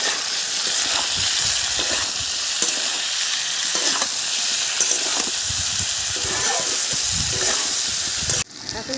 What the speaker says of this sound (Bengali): এখন কলা হাফ ভাজা হয়ে গেছে,